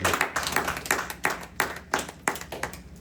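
A congregation claps in acclaim of the Lord during a French-language church service, sharp rhythmic bursts of hand claps repeating steadily and fairly close, with no talk over them.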